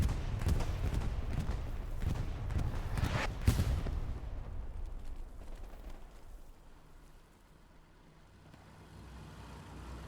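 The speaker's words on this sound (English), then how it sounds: "As the bombing run comes down on north of Foy Road here." Bombing run explosions strike north of Foy Road in the World War II game Hell Let Loose, heavy blasts and rumbling crashes through the first few seconds, then fading into a distant low battlefield rumble.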